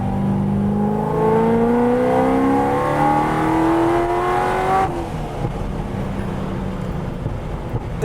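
A Corvette with a 6-speed gearbox revs up through third gear, its pitch climbing steadily for about five seconds before dropping off to a lower, steady drone.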